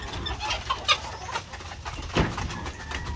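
White Leghorn laying hens on a farm clucking in short, scattered calls, close and moderately loud over a low background murmur, with no talk.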